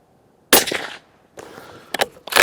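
Benelli Lupo Open Country bolt-action rifle firing on a range, a sharp loud report followed by a second burst and a couple of quick cracks and clatters, with no talking.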